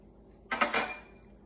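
An egg cracked against a bowl and dropped into mini donut batter: a short, close cluster of two or three sharp clicks and a brief splat, then quiet.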